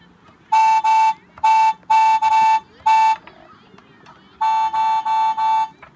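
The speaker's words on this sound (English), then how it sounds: "honking the horn scares the dog and it runs off" A Fisher-Price Teletubbies musical toy car horn honks in a series of short, loud blasts, five in a quick run, then a pause and three or four more, over faint background noise.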